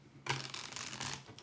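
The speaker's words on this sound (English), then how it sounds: "I want to give this first deck one more shuffle and a cut," A tarot card deck gets a quick shuffle: a close, brisk riffle of cards lasting about a second, crisp and papery, heard alone without talk.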